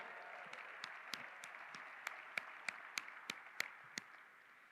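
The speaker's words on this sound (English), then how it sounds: "Yeah, that's worth clapping for." Light, scattered clapping from a small audience at a downtown community event, individual claps distinct, fading out after a few seconds.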